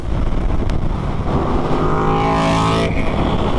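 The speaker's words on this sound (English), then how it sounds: "I could feel the punch of that big two-cylinder engine." A KTM Super Duke R's big two-cylinder engine roars loud and close, a steady throaty drone that climbs in pitch as it revs, then drops off near the end, with no talking.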